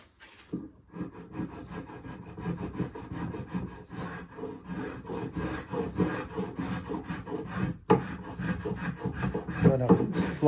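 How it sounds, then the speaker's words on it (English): A spokeshave shaves wood to shape a custom screwdriver handle in repeated rasping strokes, steady and close. One sharper knock sounds partway through. "by using the spoke shave, it gives sort of a real bit of flexibility and speed as well"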